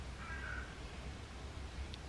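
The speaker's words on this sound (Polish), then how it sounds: "Ten kruk, co tak dziobie." A raven near a parked car gives a short hoarse call, followed by a faint sharp tap of pecking, over quiet outdoor morning ambience.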